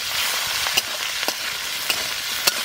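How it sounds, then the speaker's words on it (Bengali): Cut potatoes frying with chopped garlic and green chili in a pan outdoors by a village pond, a loud continuous sizzle with occasional scraping clicks of a stirring spoon, close up and without talk. "তাই আমি দিয়ে দেবো আলু একসাথে একটু কষাই নেবো"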